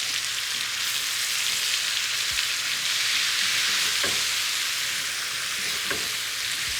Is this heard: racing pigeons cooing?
no